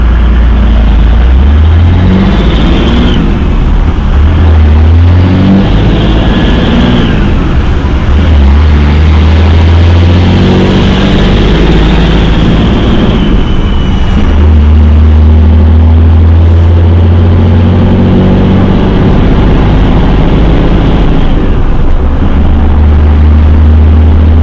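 A hotshot truck's diesel engine drones steadily at low revs while cruising in sixth gear, a loud constant rumble with road and wind noise and no talk.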